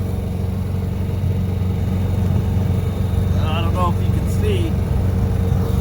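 Generator running beneath a coffee trailer, a steady low mechanical hum that holds throughout while a person talks over it.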